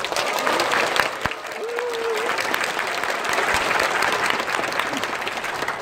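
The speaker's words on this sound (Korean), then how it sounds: "여러분들의 박수를 들으니까" Sustained audience applause fills a hall after a speech, steady and dense throughout with brief vocal sounds rising above the clapping.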